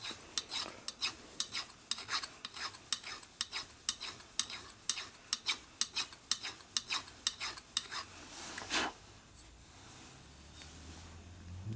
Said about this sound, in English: Can you feel the high spot when you're filing it?